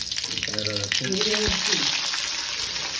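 Mustard seeds splutter and pop in hot oil for a tadka over dhokla, a loud bright sizzle with rapid crackles close by, while voices talk briefly over it.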